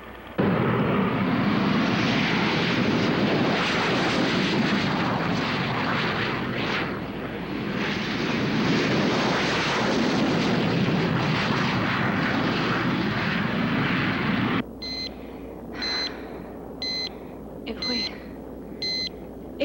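Military aircraft scrambling, with a loud, sustained jet engine roar that fills most of the stretch, then cuts to repeated electronic beeps with a lower rumble beneath.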